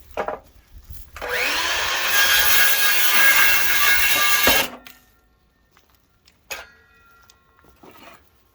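A power saw cuts through a wooden upright for a firewood rack, a loud, steady whining bite lasting a few seconds that ends abruptly, with scattered knocks and clatter of wood before and after.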